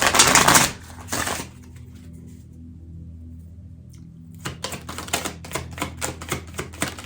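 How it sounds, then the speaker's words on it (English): Short bursts of rapid riffling clicks, a loud flutter at the start, then quiet, followed by a series of crisp, rhythmic card snaps and taps. "I'm going to get out this deck. We're going to give it a shuffle."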